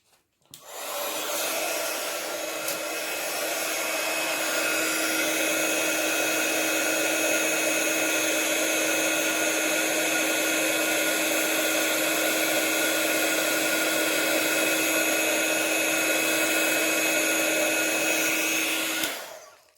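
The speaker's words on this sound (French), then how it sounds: "Et avec le pistolet toujours chauffant, hop. On va chauffer." A heat gun blows hot air in a continuous, steady whooshing roar with a faint high whine, running alone for nearly twenty seconds.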